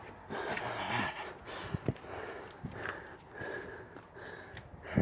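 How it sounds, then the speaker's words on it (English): A smoker breathing heavily while climbing without using his hands, with quick gasps, sniffs and snorting breaths close to the mic, no talk. "Mind my breathing. I'm a smoker."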